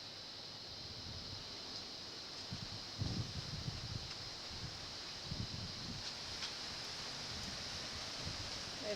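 Steady wind blowing outdoors ahead of Hurricane Jeanne, a continuous broadband rush with occasional low gusts buffeting the microphone, moderately loud and unbroken throughout.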